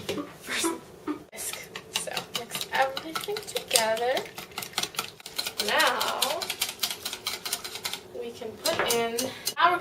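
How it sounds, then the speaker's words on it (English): Muffin batter with honey being whisked in a bowl, a fast run of close rhythmic clinks and taps with brief pauses, under intermittent talking. "First, whisk. So mix everything together."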